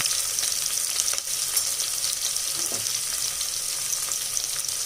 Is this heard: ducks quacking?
no